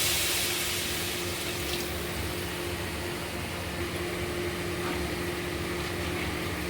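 Water runs in a continuous, even hiss as it is poured into a cooking pot for a fish curry, with a steady hum beneath and no voices.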